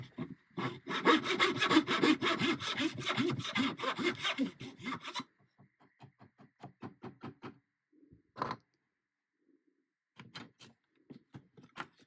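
A hand saw cuts into wood for a cigar box stick dulcimer headstock, a loud steady rasping run of strokes, then short separate strokes and a few knocks as the cut slows.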